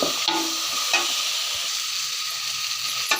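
Tomatoes sautéing in a pan while being stirred, a soft steady hiss of frying with occasional light scrapes and taps, heard alone.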